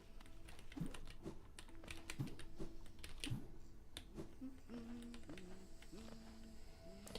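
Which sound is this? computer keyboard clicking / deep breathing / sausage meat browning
computer keyboard clicking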